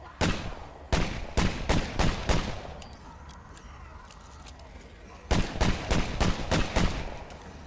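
Safari Razorback gun firing at a Plague Heart in State of Decay 2 on nightmare difficulty: two rapid bursts of loud, close shots separated by a quieter gap.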